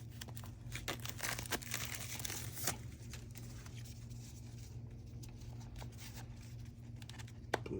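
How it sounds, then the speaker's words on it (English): Plastic wrapping pulled off a new PC case, giving a series of crinkles and tearing rustles at close range over a steady low background hum. "pull this plastic off"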